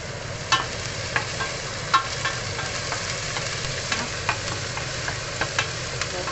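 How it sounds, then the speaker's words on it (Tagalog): Onions fry in a pan with a steady, hissing sizzle, broken by several soft taps and clicks, the sizzle holding level throughout with no voices. "Fry tayo muna ng sibuyas."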